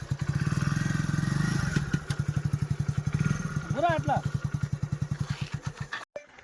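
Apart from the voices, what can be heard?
motorcycles passing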